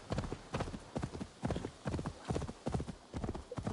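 Horse hooves gallop in the game Assassin's Creed Valhalla, a loud, rhythmic clip-clop beat repeating in quick groups of strikes, close and continuous.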